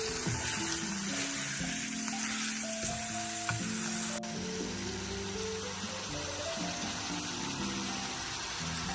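Meat for an okra curry sizzles steadily in a pan, a continuous close frying hiss with occasional soft stirring clatter and no talk.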